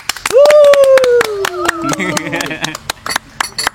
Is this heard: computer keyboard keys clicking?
no